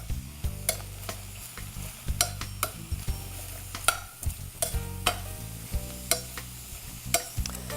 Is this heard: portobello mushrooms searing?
yes